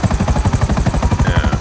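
Rapid, steady rotor thumping of a helicopter in GTA 5, close and loud with an even chopping beat over a whining turbine hum.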